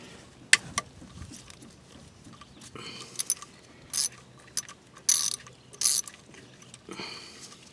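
A ratchet loosens the temperature sensor on a 2004 Toyota Sienna. Sharp clicking bursts come at irregular intervals over a quiet background, close and fairly loud.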